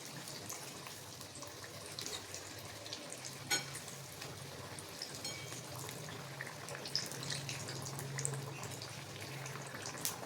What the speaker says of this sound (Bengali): এভাবে একটু সময় নিয়ে ভালো করে ভেজে নেব।